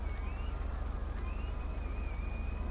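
Police car siren running code 3 in GTA 5 with the LSPDFR mod, a wailing tone sweeping slowly up and down over a loud, steady low engine drone, fairly quiet overall and with no talking.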